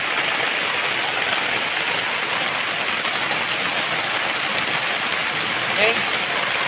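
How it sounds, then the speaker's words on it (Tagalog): Rain falls outdoors in a dense, steady wash of hiss across the whole stretch, with no voices. "Tingnan nyo, umulan ngayon."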